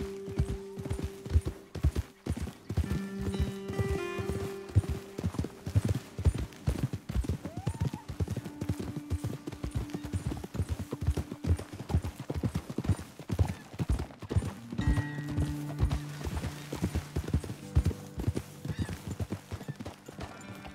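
Horses trot in Red Dead Redemption 2, a long run of close, rhythmic hoof clip-clops on a trail, joined now and then by a brief whinny.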